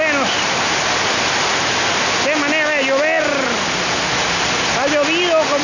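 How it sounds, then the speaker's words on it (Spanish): A heavy tropical downpour in Vinces roars as a loud, dense wash of rain without pause, with a voice talking over it at intervals. "¡Qué manera de llover!"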